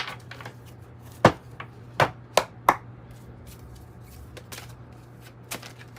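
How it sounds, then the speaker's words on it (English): Tarot cards being shuffled by hand, heard as a few sharp riffling snaps and slaps spaced apart over a steady low hum, fairly close and moderately loud. "I know I'm shuffling a lot"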